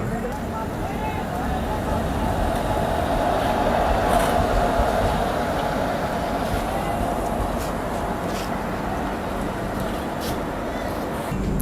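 A passenger express train, the Jharkhand Swarna Jayanti Express, departs a station with a steady loud rumble and rolling clatter of wheels on rails, a continuous close drone without breaks.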